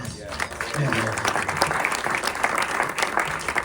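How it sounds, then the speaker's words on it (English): A Hollywood Q&A audience bursts into applause, a full, close wash of many hands clapping steadily throughout with some voices mixed into the crowd. "let's give an applause for that"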